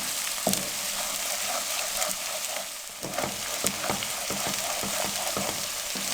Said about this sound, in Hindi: लो फ्लेम पे प्याज़ों को अच्छे से भून लें।